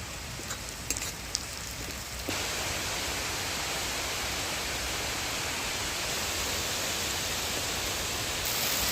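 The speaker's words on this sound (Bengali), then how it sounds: "রান্না করতে করতে খুব ভারী বৃষ্টি চলে আসছে, দেখো অন্ধকার হয়ে গেছে আর প্রচুর বৃষ্টি হচ্ছে।" Heavy rain pours down steadily during cooking on a dark day, a dense broadband roar that swells louder after the first couple of seconds and then holds constant, with no voices.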